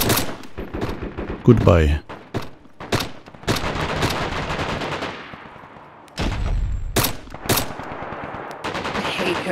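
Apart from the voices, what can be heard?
gun hip firing in video game DayZ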